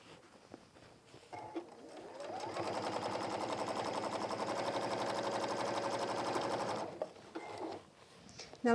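A sewing machine stitches a messenger bag, running steadily for several seconds in a quiet workshop, with brief handling noises before and after the run.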